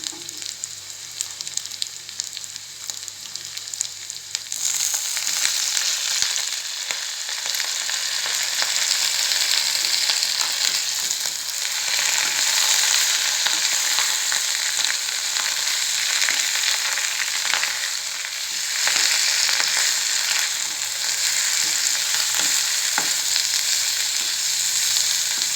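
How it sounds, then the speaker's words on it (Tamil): Manathakkali greens sauté in a hot pan for a keerai chutney, giving a loud, steady sizzle that swells after the first few seconds and carries on unbroken, close to the listener, with no voices. "கீரை கொஞ்சம் நல்லா வதங்கட்டுங்க."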